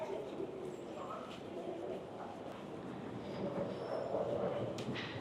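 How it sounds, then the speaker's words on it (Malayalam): A train rumbles steadily at Parramatta railway station in Sydney, a low continuous rail noise under station ambience that swells slightly toward the end, with someone talking over it. "അപ്പോൾ നമ്മളിപ്പോൾ പാരമീറ്റർ റെയിൽവേ സ്റ്റേഷനിലാണുള്ളത്."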